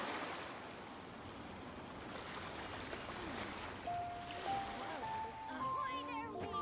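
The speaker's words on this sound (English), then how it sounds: "The sound of the ocean waves." Ocean waves in Genshin Impact roll as a steady, hissing wash of surf, with soft melodic tones rising over it toward the end.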